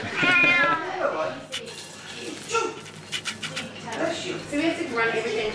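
A cat meows several times, with drawn-out, wavering cries mixed with people talking nearby.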